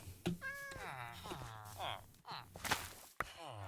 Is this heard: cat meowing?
yes